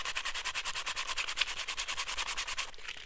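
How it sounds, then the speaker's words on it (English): Sandpaper rubbed back and forth over a trash-to-treasure journal page, a steady rhythmic scratching of even strokes, close and fairly quiet, with no talking over it. "I'm actually going to sand."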